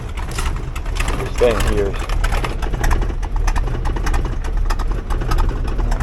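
An engine idles with a steady low rumble and faint rattling, while someone talks over it at close range.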